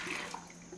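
Water is poured into a cooking pot to cover corn kernels, making a short, steady splashing rush at close range.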